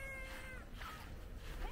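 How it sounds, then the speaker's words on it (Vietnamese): The neighbour's cats meow faintly over steady background noise outdoors, with a drawn-out meow at the start and a brief rising call near the end. "đàn mèo hàng xóm nè"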